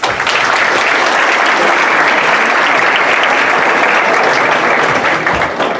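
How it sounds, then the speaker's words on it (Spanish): An audience claps loudly and steadily for the whole stretch. The applause is a dense, even roar at full volume that never lets up. "les pido un muy fuerte aplauso"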